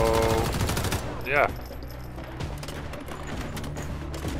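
Automatic gunfire in the shooter game Once Human: a voice speaks briefly at the start, then rapid, rattling bursts of fire continue steadily in the background.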